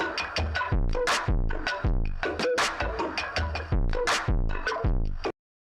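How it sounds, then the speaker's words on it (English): A loud, crunchy sound run through McDSP's Futzbox distortion plugin, with sharp rhythmic hits and gritty, lo-fi tails that stop abruptly just before the end. "you have exactly the same Futzbox distortion sound that you've come to love over these many years"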